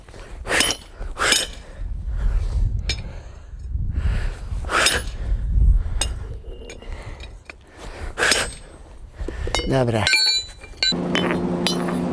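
Hammer blows on hot metal in a blacksmith's forge, a series of sharp metallic clangs at an irregular pace, ringing out between and under a man's speech, followed by a brief high ringing tone.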